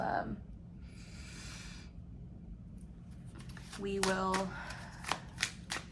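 Tarot cards being taken out and shuffled, a brisk flutter and riffle followed by soft slaps and taps of the deck, quiet and close amid a low hum, with a voice speaking briefly.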